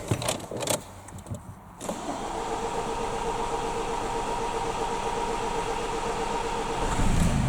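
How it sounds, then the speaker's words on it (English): A Nissan X-Trail T31 2.0 dCi diesel cranks on a boost pack: after a few clicks and knocks, a steady drawn-out starter whir runs on without catching, rising slightly at the end. "Wow, that's a long crank time."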